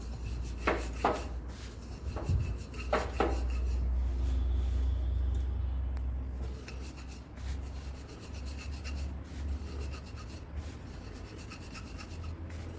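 A rolling pin works a small puran poli, a flatbread stuffed with sweet lentil filling, producing soft, close rubbing and scraping strokes in an irregular rhythm against a low background hum.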